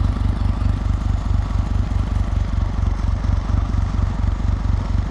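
A Kawasaki W800 motorcycle engine running cold, idling with an uneven, jerky chug: a loud, steady low thumping pulse that repeats in a rapid rhythm, close by and unbroken, with no voices.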